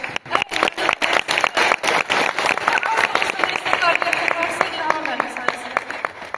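An audience at a year-end ceremony of a cultural centre in Horadiz, Füzuli, Azerbaijan applauds a teacher, with loud, sustained rhythmic clapping that grows denser and more even, close and filling the room.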